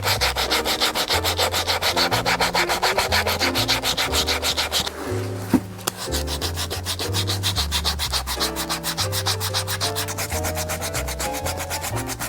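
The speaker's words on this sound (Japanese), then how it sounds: "じゃあ最後にサンドペーパーで仕上げていきます。" Sandpaper rubs steadily back and forth on a stacked leather shoe heel, a close, continuous rhythmic scratching of even strokes that runs throughout under soft background music.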